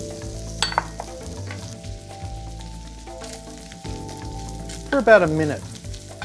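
Shrimp and sliced shiitake mushrooms fry in a pan with bacon for special fried rice, giving a constant close sizzle with busier crackling and stirring bursts near the end and a short spoken phrase early on.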